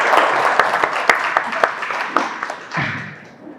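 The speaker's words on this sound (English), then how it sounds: "Guys, clap." A small audience at a panel discussion claps, scattered individual hand claps that are sparse and distinct before fading out, with a little talk underneath.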